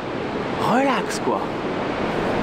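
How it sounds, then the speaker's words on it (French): Waves break steadily on a deserted seashore in Japan, a continuous wash of surf filling the clip, while someone talks briefly over it. "c'est le bruit des vagues"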